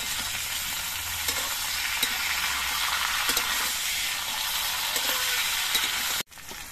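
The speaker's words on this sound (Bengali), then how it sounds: "সজনের ডাঁটাগুলো 2-1 মিনিট ভেজে নেওয়ার পর এর মধ্যে আমি ভেজে রাখা সবজিগুলো দিয়ে দিচ্ছি" Pre-fried vegetables join drumsticks already frying in a pan: a continuous loud sizzle with faint stirring knocks, cutting off abruptly near the end.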